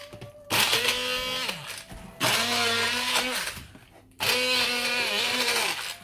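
A hand blender grinding coriander chutney with green chillies whirs in three loud bursts, its motor pitch rising and dipping as it grinds, with short pauses between.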